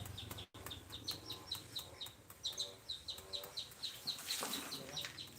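Chickens cluck in a rural setting in Thailand, a run of short, repeated calls close by in a loose rhythm, with faint background sounds and a brief knock near the start.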